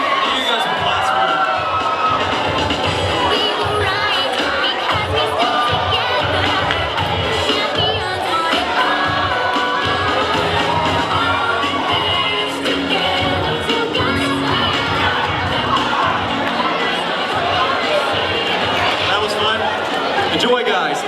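A live audience screams and cheers continuously at a motivational talk, a dense wall of shouting, whooping voices at close range that never lets up.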